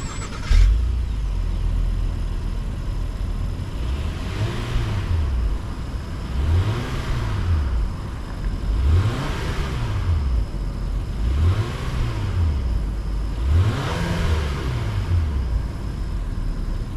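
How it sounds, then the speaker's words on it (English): A 2022 Honda Passport SUV exhaust revs up and down repeatedly in steady cycles over a continuous engine rumble, loud and close. "what exactly does the exhaust sound like? Well, here's an exhaust clip"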